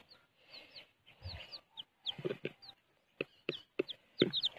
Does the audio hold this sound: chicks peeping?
yes